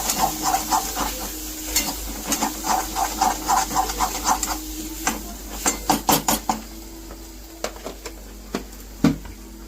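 A spoon stirs a spice mix of turmeric, red chili powder and coriander powder in a pan, scraping and clinking in a steady close rhythm of strokes that tapers off, with no talking.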